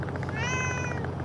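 A cat gives a single clear, drawn-out meow, close and distinct, with a steady low hum underneath.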